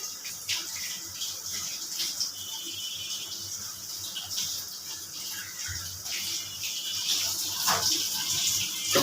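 Bay leaves fry in hot oil in a home kitchen while dried fish is being cooked, giving a continuous bright sizzle and crackle that holds fairly steady and close throughout, with no talking.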